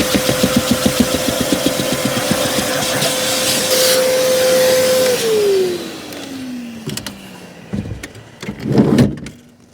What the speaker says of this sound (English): So let's hoover this bit out.